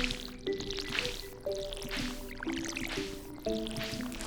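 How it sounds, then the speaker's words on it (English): Crops being watered from a watering can in the farming video game Stardew Valley, heard as a game sound effect of repeated soft splashy liquid drips and squishes at a steady one-per-second rhythm, with plucked musical tones and no talk. "So first, though, I'm going to water... Actually, why am I watering these? I'm going to water all these."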